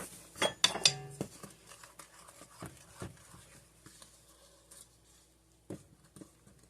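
A spoon stirs ingredients into bread flour in a bowl, making sparse clinks and light scrapes, loudest in a quick cluster at the start and then fading to occasional soft taps.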